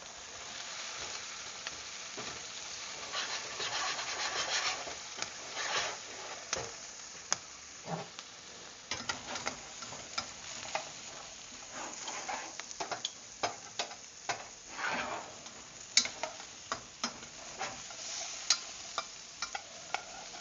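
Garlic sizzles steadily in a hot pan on a home stove, a dense crackling hiss running throughout with frequent sharp pops and ticks scattered over it, no voices.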